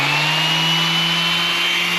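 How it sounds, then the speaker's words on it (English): A power sander hums loudly and steadily at close range, a continuous buzzing drone with a strong low tone, while the second layer of a wooden table top is sanded slowly. "Next, it's time to sand the second layer."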